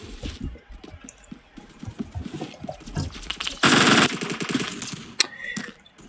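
Rapid rifle fire from a stockless weapon in the video game Phantom Forces, with dense bursts of shots, one loud sustained blast in the middle and a sharp crack near the end.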